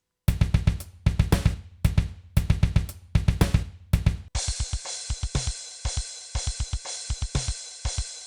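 Machine-tight programmed metal drum pattern: fast repeated kick hits and sharp cymbal crashes in short bursts, then a steady double-kick groove under a wash of cymbals, no voices.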